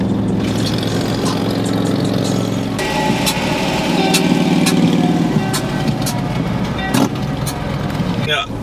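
A motorcycle engine runs steadily and fairly close on a road in the USA, its continuous drone shifting pitch partway through.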